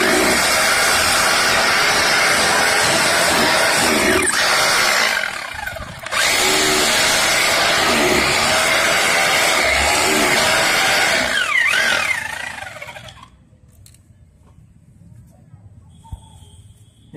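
An electric drill runs loudly and steadily for about twelve seconds with a brief dip in the middle, then stops, leaving a quiet room with faint background sound.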